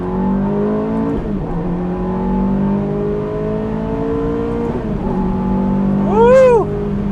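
A Ferrari F430 sweeps fast around a corner, its engine droning loud and steady with pitch shifts as it changes gear, then a sharp high rising whine near the end.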